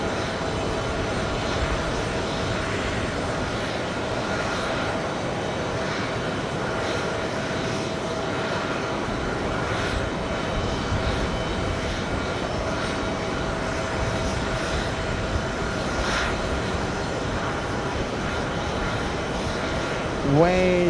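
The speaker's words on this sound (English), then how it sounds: "I want to show you the Atlas 747 crossing the runway." Atlas Boeing 747 crossing the runway at JFK airport, its jet engines giving a steady, loud broadband roar that holds throughout with little change, under a faint voice.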